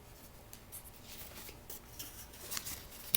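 Pen or pencil scratches across paper as a word is written, soft rhythmic strokes close by in a quiet room with no talk.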